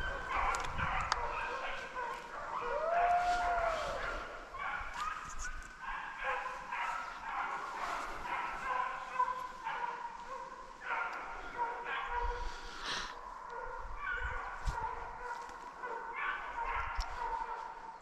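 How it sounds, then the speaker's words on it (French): During a driven hunt, a pack of hunting dogs holds a large wild boar at bay, baying and yelping continuously in the distance, overlapping howls and barks echoing across open ground. "Les chiens étaient aux abois sur un gros sanglier"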